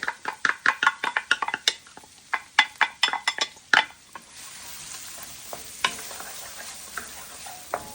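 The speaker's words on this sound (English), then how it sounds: "We can go on ahead and add in the shallots and the garlic." Shallots and garlic go into a hot pan of oil and garlic butter for crab fried rice: a burst of rapid scraping stirs and clinks, then a softer steady sizzle with occasional taps.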